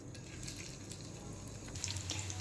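Chicken pakodi pieces fry in hot oil with a steady, close sizzle and crackle, growing a little livelier near the end as more pieces go into the pan.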